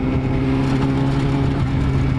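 Sport bike exhaust burbling steadily and loudly up close while riding, a continuous engine drone with no talk over it.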